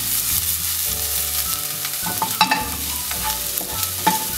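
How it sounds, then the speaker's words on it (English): Ginger and garlic frying in a pan for restaurant-style chilli chicken, a steady sizzle broken by repeated stirring scrapes and a few sharp clinks of the spatula against the pan. "ginger and garlic is little bit fried"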